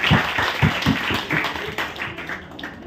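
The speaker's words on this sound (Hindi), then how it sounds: "एक बार जोरदार तालियां बजाएंगे सब।" Applause at an Inner Wheel Club official visit day event in Delhi: several distinct, fairly loud claps at first, then a looser, thinner patter of hands that fades toward the end.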